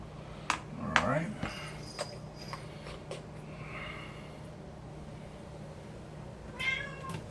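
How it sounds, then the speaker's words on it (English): A white cat meows faintly a couple of times in a kitchen, brief high calls among clicks and soft noises, with a person speaking quietly nearby. "White kitty cat."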